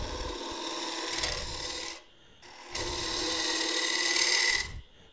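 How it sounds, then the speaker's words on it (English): Wood being turned on a lathe with a 3/8 inch spindle gouge supported on a box rest, a steady close rasping scrape that breaks off briefly around the two-second mark, then resumes and cuts out near the end. "We're going to switch to the 3/8 inch spindle gouge"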